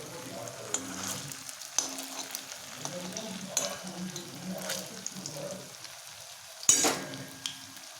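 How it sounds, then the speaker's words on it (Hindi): Veg Manchurian balls fry in hot oil with a steady close sizzle, broken by occasional stirring clatter and a sharp clink near the end. "अब इसको फ्राई होने देते हैं।"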